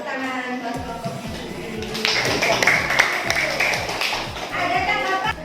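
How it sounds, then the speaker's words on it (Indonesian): A classroom group of students gets applause: after a voice, scattered claps start, then swell into a few seconds of brisk clapping with talk over it. "Ibu beri tepuk tangan buat kelompoknya"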